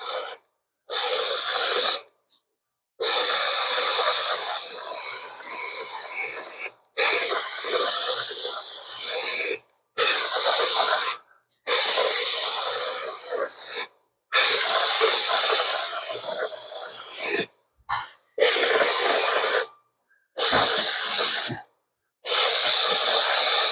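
A powder coat spray gun nozzle sends out repeated loud hissing bursts of a few seconds each, separated by short silent gaps as the trigger is released and pressed again.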